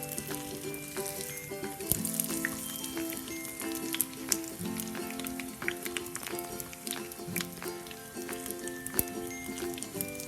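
Egg bajji, chutney-filled battered eggs, fry in hot oil with a steady, close, bright sizzle and crackle dotted with sharp pops and occasional clinks of a utensil, and no talking.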